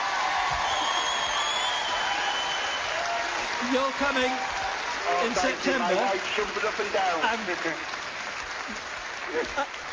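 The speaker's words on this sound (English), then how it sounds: "Give him a round of applause." Studio audience applause during a live paranormal television broadcast, steady clapping throughout with someone talking over it and cheers rising near the middle.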